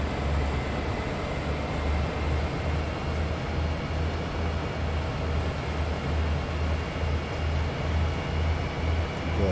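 A simulated diesel freight train in Train Sim World 2 hauls uphill on an incline, giving a loud, steady low engine drone with a deep pulsing rumble that never lets up.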